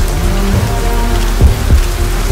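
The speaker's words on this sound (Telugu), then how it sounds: "వర్షం బాగా పడుతుంది, ఇప్పుడు ఏం చేద్దాం?" Heavy rain pours steadily onto surfaces, a loud, dense wash with a couple of sharp knocks partway through and no voices.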